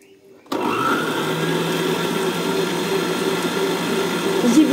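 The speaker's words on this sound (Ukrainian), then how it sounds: "5 білків збиваємо до піни" An electric hand mixer whips five egg whites to a foam in a home kitchen, switching on abruptly after a short quiet moment and then whirring loudly and steadily at close range without a pause.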